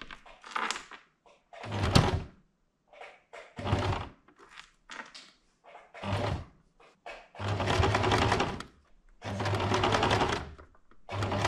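A sewing machine stitches in a pinned-down zipper, running in several short bursts with pauses between, the whirring runs growing longer and steadier toward the end, close and clear with no talking.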